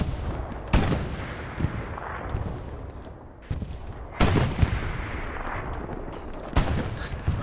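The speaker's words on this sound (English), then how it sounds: "Okay, they win that gunfight." Gunfire crackles through a multiplayer World War-style shooter battle, with sharp close shots and bursts over a steady rumble of distant firing and explosions.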